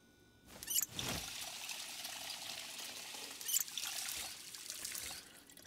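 Water pours and trickles steadily in Project Zomboid as a container is refilled, a continuous liquid stream with splashy bursts near the start and middle, fairly close and without talk.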